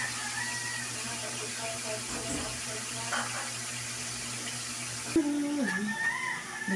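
Pot of cooking oil coming to a boil on a home stove while making biko, a steady hiss and bubbling wash throughout with a voice speaking over it near the end.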